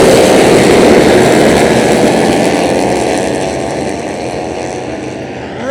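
Racing motorcycles launching at the start of a Scottish Bike Championship race at East Fortune, a loud dense roar of many engines close by that slowly fades as the pack pulls away.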